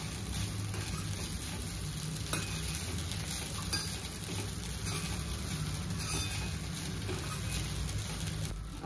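Kanda poha (flattened rice with onion and coriander) stirred in a pan on the stove: a soft continuous sizzle with scraping and light clinks of a spoon against the metal, steady throughout.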